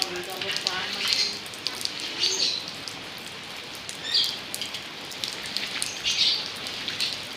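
Steady rain falls and patters on surfaces nearby, with a continuous hiss broken by brief louder splashes, and faint voices can be heard now and then beneath it.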